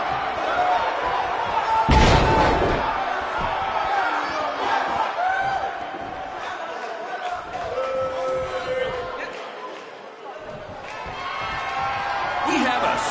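A wrestling video game arena crowd roars steadily throughout, with a sharp slam or thud early on, swelling cheers and announcer commentary running over the top.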